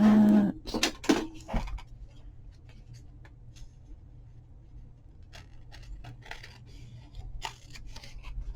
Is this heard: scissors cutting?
yes